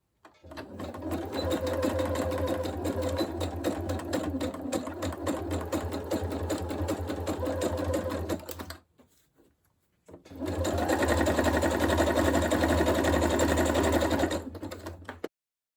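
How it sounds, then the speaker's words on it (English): A sewing machine running a zigzag stitch along the sides of a fabric dust bag: a loud, fast, steady mechanical whir for several seconds, a brief pause, then another long run. "now we're going to use a zigzag stitch to do the sides"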